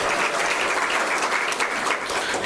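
An audience applauds at a career guidance seminar on study abroad opportunities, with dense, sustained clapping from a crowd filling the room evenly.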